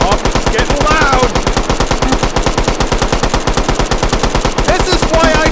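Rapid gunfire from a weapon in the H3VR virtual reality shooting game, firing a loud, continuous fast stream of close shots with no pause, with faint metallic tinkles under the bursts.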